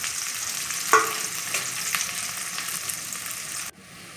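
Onion, garlic and curry leaves sauté in hot oil with fenugreek seeds, making a dense, steady sizzle with a light stir-scrape, until the sound drops away abruptly near the end.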